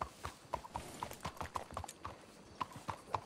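Horse hooves clip-clop on hard ground in the video game Red Dead Redemption 2, a steady rhythmic series of about a dozen fairly close hoofbeats, with no talk over them.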